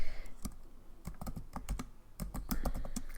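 Quick bursts of keystrokes on a computer keyboard as a file name is entered, a close, irregular clatter of several rapid taps with short pauses, no voices.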